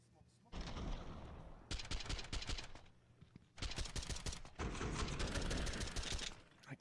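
Gunfire in the Counter-Strike 2 video game, loud sustained bursts of rapid shots in three long stretches separated by short pauses.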